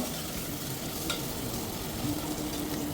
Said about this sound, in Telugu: మనం ఇందులో అల్లం వెల్లుల్లి పేస్ట్ని యాడ్ చేద్దామండి. ఇది కూడా పచ్చివాసన పోయేదాకా బాగా వేపుకుందాం